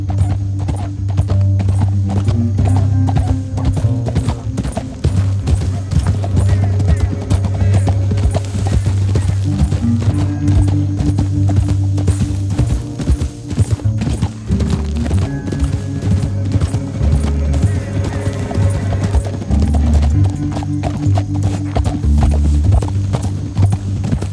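Rhythmic hoofbeats of several galloping horses pound steadily over a low droning musical score, loud and continuous, with a brief whinny and no talking, in Red Dead Redemption 2.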